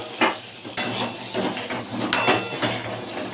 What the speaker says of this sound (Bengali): আলুটা আলু ভেজে তুলে নেবো তারপর ফুলকপিটাকে ভাজবো